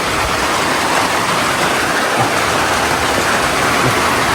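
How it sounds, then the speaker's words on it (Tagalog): Heavy rain pours steadily in a loud, continuous roar with no pauses, close by and filling the whole scene. "Grabe yung ulan no."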